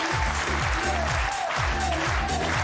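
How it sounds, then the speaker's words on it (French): Studio audience applause on a French television talk show, dense steady clapping with a rhythmic thumping beat running underneath throughout. "Applaudissements pour"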